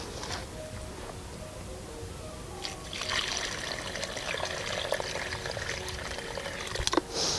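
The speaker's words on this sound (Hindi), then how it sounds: "इसके बाद इसमें हम तुरंत पानी डाल देते हैं।" Water poured into a container holding a newly planted fruit plant on a rooftop garden, a soft steady trickle that grows louder and splashier midway, close by and with no talk.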